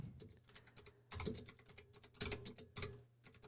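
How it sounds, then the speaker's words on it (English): Loud computer keyboard typing, with quick clattering keystrokes in irregular bursts and short pauses, close and alone with no speech. "This keyboard is really loud."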